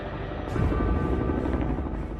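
Inside a doorless helicopter in flight, a loud, steady rotor and engine drone fills the cabin, close and unbroken, with no talking.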